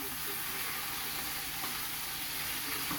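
Chicken broth cooks in a kitchen pot, giving a steady, even sizzling hiss that carries on unbroken at a moderate level with no voices over it.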